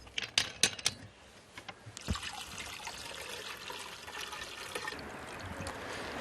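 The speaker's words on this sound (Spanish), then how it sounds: "Ahora lo que voy a hacer es cargar el tanque para el tanque de sensibilización con el nitrato de plata" Diluted silver nitrate in distilled water being poured into a sensitizing tank for tintype photography, a steady trickle and splash following a few sharp clinks of glass or containers.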